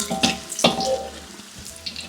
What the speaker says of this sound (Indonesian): Lanjut kita tumis daun katuk.